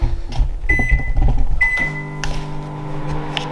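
A microwave oven briefly heating grease for a baking tin, its steady hum running under a few clear electronic beeps, heard close in a home kitchen without talk.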